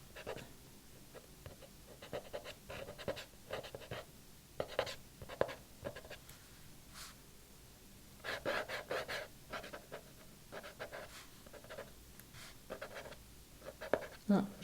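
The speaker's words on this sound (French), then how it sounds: "j'essaie de créer de la texture avec cette gomme" A hard precision eraser rubbing over a graphite drawing of waves, with faint, close scratchy strokes in short irregular bursts, while a person speaks quietly.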